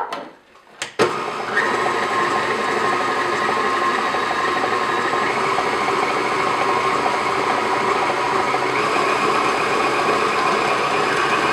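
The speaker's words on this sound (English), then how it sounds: "We're gonna cream the sugar and the butter together." A small KitchenAid stand mixer creams butter and sugar, its motor whirring at a steady, loud drone with a faint gritty churn. A couple of brief clicks come before it starts, and no one speaks.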